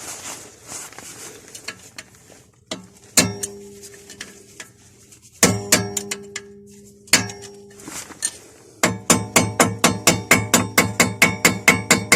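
Metal pin being tapped into a Range Rover Sport front brake caliper with a hammer: scattered ringing metallic taps at first, then a fast, steady run of sharp clinking strikes, close and loud with no talking.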